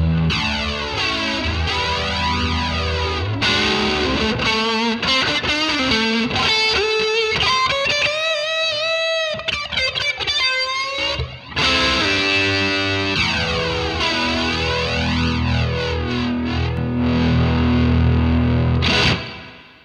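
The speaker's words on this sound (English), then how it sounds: "Here's Realtrap's partner, Ethan Weiner, playing a distorted electric guitar so you can hear what it sounds like with the comb filter turned on and off." Heavily distorted electric guitar playing sustained chords and riffs, with a sweeping, swirling comb-filter tone that rises and falls continuously throughout.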